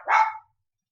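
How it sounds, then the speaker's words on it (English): A single short dog bark, sharp and fairly close, standing alone with silence following. "Got cut off there for a second at barking dogs."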